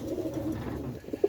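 Young pigeons on a roof give soft, low cooing calls, a few close murmuring coos rising to a brief louder note at the end, with no talking.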